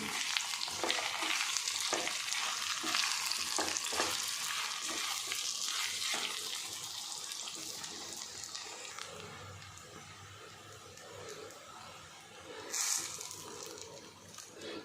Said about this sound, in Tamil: இதையும் கலந்துக்கலாம் கலந்துட்டு நல்லா மாவை கிளறி விடணும்